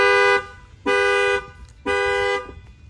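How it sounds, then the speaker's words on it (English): A Cadillac XT5 factory alarm goes off after the window is banged on, giving three loud, even horn honks with short gaps between them, close by and alone. "Now you're gonna see that the alarm's gonna fire off."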